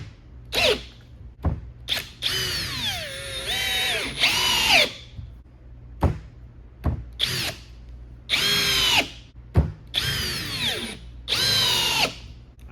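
A power drill in drill mode at speed 2 whirs in repeated bursts, whining and bogging as screws drive into Douglas fir, with short pauses between each screw.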